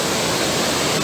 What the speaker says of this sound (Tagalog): Yan ang waterfall.